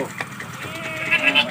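A male goat gives a short, wavering bleat close by in a village, with other voices and noise around it.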